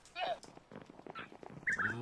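Minecraft birds, here turkey-like fowl on a full-scale ark, give a few short gobbling calls, with a louder chirpy burst near the end over a low game background.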